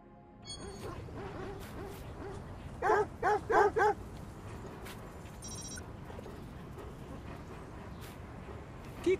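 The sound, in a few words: dog barking in the video game Watch Dogs 2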